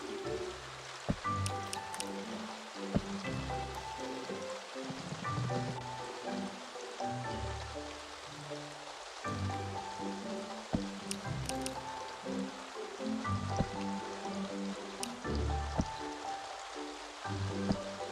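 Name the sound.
rain in a video game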